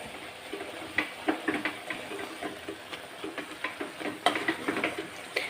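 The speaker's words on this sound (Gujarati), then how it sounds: "હવે સરસ રીતે આપણે મિક્સ કરી લઈશું" Bottle gourd halwa with milk being stirred in a pan: irregular soft scrapes and small clicks of the spoon against the metal over a faint sizzle, close and fairly quiet, with no talking.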